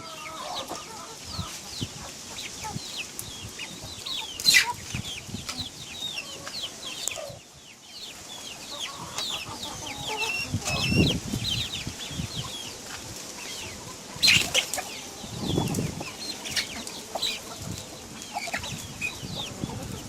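A flock of chickens clucks busily while being fed natural feed, with overlapping nearby clucks and calls and occasional louder squawks rising over a steady farmyard bustle.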